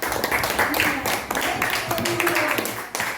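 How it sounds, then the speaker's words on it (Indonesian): A classroom group claps for a classmate, with scattered hand claps running through chatter and speaking voices. "tepuk tangan untuk teman kita"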